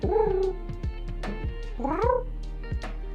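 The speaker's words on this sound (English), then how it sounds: "little meow" A cat meows a few times up close, short rising calls separated by brief pauses, with no talking.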